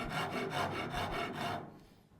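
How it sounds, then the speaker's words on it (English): A big coarse wood rasp scraping along the edge of a wooden sword blade, rough rhythmic rubbing strokes close up for about a second and a half before it stops and trails off into quiet. "I decided I want more angle, so I'm bringing out the big, nasty rasp."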